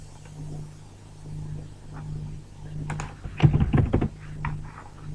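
Computer keyboard typing: a few soft scattered keystrokes, then a brief burst of quick clicks in the middle, over a steady low hum from the room.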